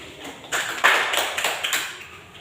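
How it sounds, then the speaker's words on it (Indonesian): A few scattered hand claps from a small class group applaud student group 1 after a presentation on the human respiratory system, with irregular close claps that swell briefly and then thin out. "kita berikan aplaus kepada kelompok 1"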